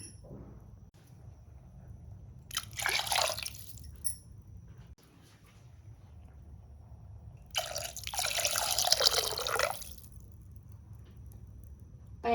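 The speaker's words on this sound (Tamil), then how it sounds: "ஸோ 4 கப் தண்ணி ஊற்றிடலாம்." Water poured into a cooking pot in a home kitchen, two bursts of splashing pouring a few seconds apart, fairly loud and close, with no talk over them.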